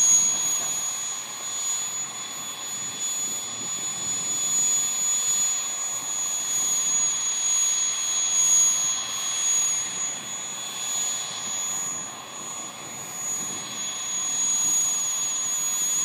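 Loud, sustained turbine roar of a model jet aircraft with a steady high-pitched whine, holding strong throughout as the engine runs at full throttle for takeoff at a model aircraft meeting.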